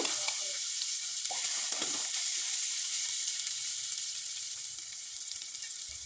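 Chopped onion frying in hot oil with a few cumin seeds in a kadai, a loud, steady sizzle with a few brief stirring scrapes early on.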